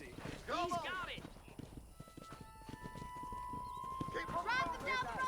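Horse hooves clip-clop steadily along a road in the Red Dead Redemption video game, joined by a few sharp neighs and whinnies at the start and end, with a faint tonal whistle in between.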